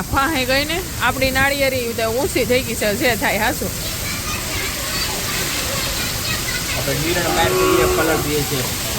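Cows low in a rural farm setting, several loud, close moos in quick succession over the first few seconds, then a softer distant moo near the end, with steady outdoor background noise and rain-like hiss throughout.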